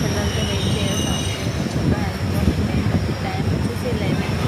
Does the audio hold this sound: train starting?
yes